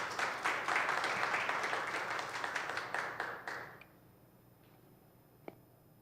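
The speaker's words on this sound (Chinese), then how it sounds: "我们这时候热烈拍手来欢迎许牧师" A church congregation applauds to welcome a pastor at a youth worship service, dense clapping filling the room and then quickly tapering off into near silence.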